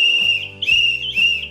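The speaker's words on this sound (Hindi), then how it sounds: "और इसकी आवाज बहुत ही लाउड, बहुत ही अमेजिंग है गाइस।" A green toy whistle with a string tied to it gives three loud, shrill blasts in quick succession close by, each a sustained piercing tone separated by brief breaks.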